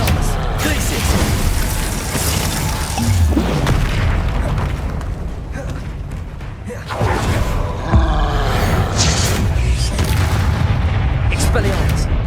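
Hogwarts Legacy spell combat with booming blasts and crackling magical explosions firing in quick succession, loud and dense throughout, under a voice shouting spell names.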